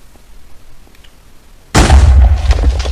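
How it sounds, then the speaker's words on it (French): After a quiet lead-in with faint ticks, a Minecraft TNT block detonates in a sudden loud, booming blast whose rumble carries on for over a second. "lorsque la TNT explose ainsi que les creepers"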